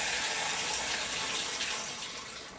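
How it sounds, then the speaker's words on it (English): A cold water tap runs steadily into a film developing tank, giving a continuous close, loud hiss of flowing water with no talk. "we're going to fill it up with some cold water"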